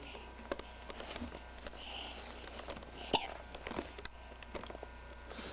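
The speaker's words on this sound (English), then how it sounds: "Do you have the hiccups" A young child's small hiccups sound faintly in a quiet bedroom at bedtime, one clearer catch near the middle among soft rustling and breathy noises, with an adult's voice nearby.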